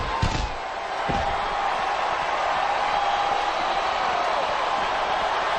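Arena crowd noise roars in a continuous loud wash during a Smackdown vs Raw 2008 wrestling video game match, with a couple of sharp thuds near the start.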